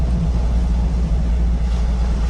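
Steady low engine rumble inside a car engine braking down a steep hill road, droning evenly without revving, with no voices.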